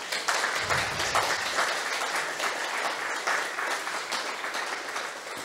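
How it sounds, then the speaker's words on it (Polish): An audience applauds at the end of a history lecture, a steady dense wash of clapping from many hands at moderate level, holding evenly for several seconds. "Każdy musi otrzymać należną porcję oklasków i Dominikowi Smyrgal."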